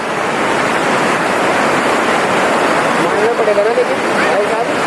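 Saraswati river rushing near Mana village in the high Himalaya, a steady, loud broadband roar of fast water that continues without a break, with faint talk and a brief tonal whistle partway through.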